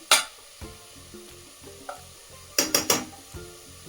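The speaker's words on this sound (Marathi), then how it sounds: "हे पहा, पेस्ट आहे, व्यवस्थित परतून घ्यायची आहे." Mint paste sautés in a pan with a steady low sizzle, and a spoon clatters and scrapes against the metal in sharp bursts, including a quick cluster of three knocks.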